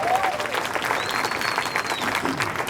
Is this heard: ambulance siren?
no